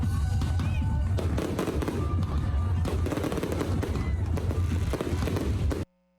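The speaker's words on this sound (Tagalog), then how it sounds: "May pa-fireworks display pa." Fireworks display at the Cebu fluvial procession, a dense run of rapid cracking bursts and pops, loud and continuous, ending abruptly.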